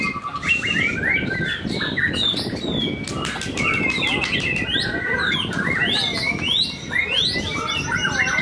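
At a song contest, a white-rumped shama (murai) pours out rapid, varied whistled phrases and sharp chirps, loud and nearby, mixed with other birds calling and wing flutters throughout.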